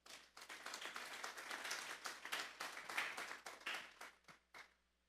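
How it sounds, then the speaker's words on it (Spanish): A church congregation gives the Lord a strong round of applause during a sermon on betrayal. The clapping is close and distinct, with individual claps audible, and it thins to a few scattered claps before stopping. "Vamos a darle un fuerte aplauso pues al Señor."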